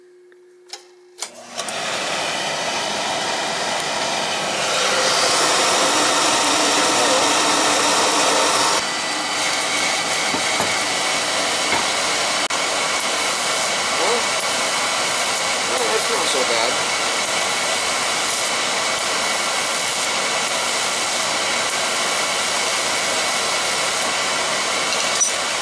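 An oil-fired boiler burner that is not heating the house clicks on and ignites, then its blower and flame build to a loud, steady broadband roar that continues without a break, close by.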